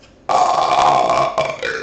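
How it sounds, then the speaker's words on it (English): A loud, drawn-out burp close to the mic, lasting over a second and trailing off at the end. "I'm coming out burping."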